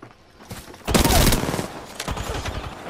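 Gunfire in a shooter video game during a firefight, with a loud burst of shots near the one-second mark followed by scattered, somewhat quieter shots and noisy battle clatter.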